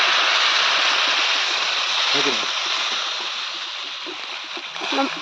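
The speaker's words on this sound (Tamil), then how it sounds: "இப்போ நம்ம வாட்டர் சேர்த்துக்கலாம்" Water pours steadily into a cooking pot of country chicken curry in a continuous rushing splash, loud at first and easing slightly, with a brief clink partway through.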